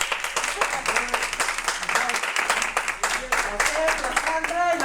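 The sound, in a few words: audience applause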